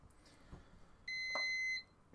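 An exercise timer gives a single sustained electronic beep, clear and steady for under a second, as it is reset. Quiet room ambience surrounds it, with no talk.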